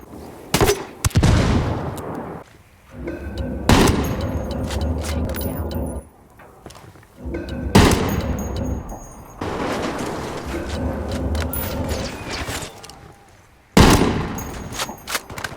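Gunfire from Ghost Recon Wildlands as an Unidad patrol is engaged, loud sharp shots and bursts in separate clusters, broken by short quiet gaps.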